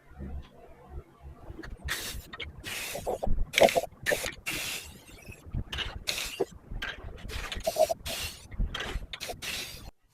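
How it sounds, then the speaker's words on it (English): Repeated short bursts of black spray paint hissing from a can, about a dozen quick blasts with brief gaps, fairly close and steady over the whole stretch. "I still will take some spray paint of black to paint the inside"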